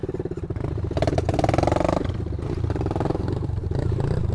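Motorcycles ride a dirt trail on a long 70 km countryside ride, their engines loud and close with a rapid throbbing pulse, revving up sharply for a moment before settling into a steady roar.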